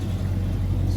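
A Chevrolet S10 engine runs steadily with a deep, constant low rumble close by, the throttle held up for a moment, with no clear talk over it.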